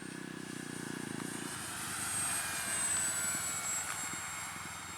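A FlightlineRC FW-190V-2 radio-controlled warbird cruises at about half throttle, its propeller and motor making a faint, distant, steady drone that swells slightly mid-pass.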